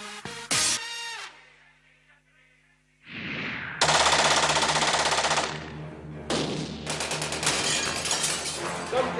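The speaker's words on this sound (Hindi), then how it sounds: "दोनों तरफ से गोलियां चल रही हैं" Loud bursts of rapid automatic gunfire crackle with shattering impacts, pausing briefly before another sustained, dense volley erupts, as a staged hotel terrorist attack on a TV talent show.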